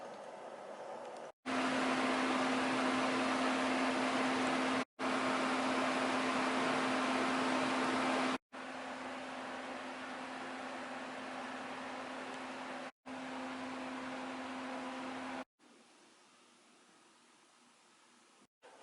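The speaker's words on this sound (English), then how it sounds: "Now I'm going to put it in the microwave so the cheese can get warmed up" Microwave oven warming a bacon cheddar cheeseburger, a steady humming whir with a constant low drone, broken by several brief cuts and ending quieter.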